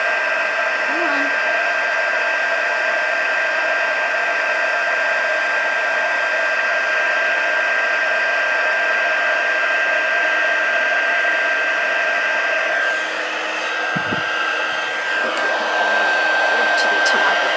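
A heat tool blows loudly and continuously while melting embossing powder on a handmade card, a steady airy roar with a brief dip and shift near the end.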